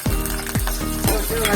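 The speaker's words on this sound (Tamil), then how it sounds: "அப்புறம் வெங்காயம் கருவேப்பிலை அப்புறம் பூண்டு போடணும்." Onion, curry leaves and garlic crackle loudly in hot oil for an aubergine curry, with four regular stirring strokes cutting through the close, dense sizzle.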